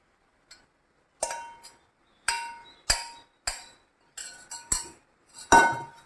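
Maggi noodles being stirred in a pan make a series of sharp, irregular metallic clinks and taps from the spoon against the pan, about eight close, distinct hits separated by quiet gaps.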